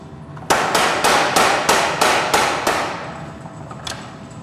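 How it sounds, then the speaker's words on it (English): A hammer strikes forged knife steel on a rusty anvil. Eight sharp, ringing blows come in an even rhythm, fading slightly toward the end, followed by one lighter tap. The strikes are close and loud, with no talking. "and then I'll hammer it."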